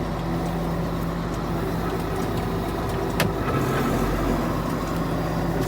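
Steady heavy diesel drone of a Case 2870 tractor driving along, with a brief clunk partway through as the power shift goes into second gear, then the engine continues evenly up close.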